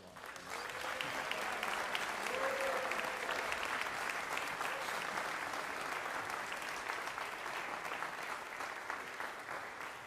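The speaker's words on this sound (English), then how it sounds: "everybody give him a round of applause" An audience applauds a member of a trombone ensemble, a steady wash of clapping that holds at even strength for the whole stretch, with a brief whistle early on.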